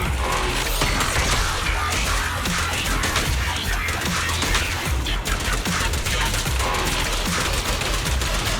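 Rapid, dense gunfire barrage from the Starlight Barrage attack in Zenless Zone Zero, a loud continuous rattle of shots with mechanical clatter throughout, no talk.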